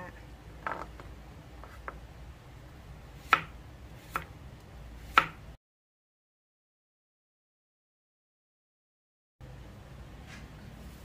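A knife slices through eggplant on a cutting board in a few sharp, sparse strikes, quiet and close, followed by a stretch of silence.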